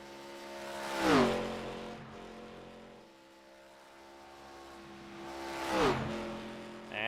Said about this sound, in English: And cars are on track here for qualifying.